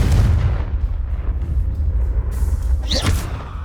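The Confringo spell in Hogwarts Legacy erupts with a loud, deep booming explosion that rumbles on for a few seconds, followed by a sharp whooshing crackle near the end.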